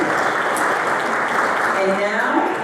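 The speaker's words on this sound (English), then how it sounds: "So give them a round of applause." Conference audience applauding sponsors at a Zoroastrian congress session, a dense, steady wash of clapping throughout with some voices mixed in underneath.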